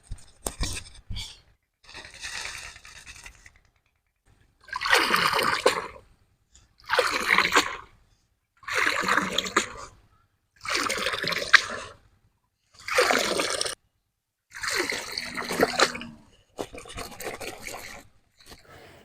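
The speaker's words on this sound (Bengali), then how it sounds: "এখন শাকগুলো ধুয়ে নিয়ে আসবো।" Leafy greens are washed in water in a village kitchen, with about seven separate bursts of splashing and swishing a couple of seconds apart, close by, divided by short pauses.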